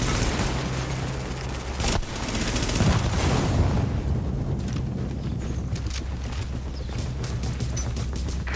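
Sustained gunfire in The Division as hostiles attack a fortification, a dense continuous crackle of shots and impacts with rumbling low end, loud and unbroken throughout.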